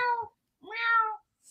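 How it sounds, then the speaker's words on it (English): A big muscular cat meows twice close by, a short call followed by a longer, rising-then-falling meow, in an otherwise quiet room. "He's a big cat, isn't he? He's a very big cat."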